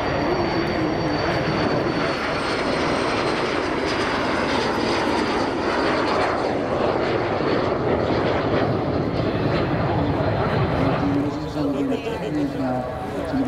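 Loud, continuous roar of jet aircraft engines at an EAA AirVenture airshow, from a civilian MiG-29UB, AlphaJets and L-39s, steady throughout, with an announcer talking over it.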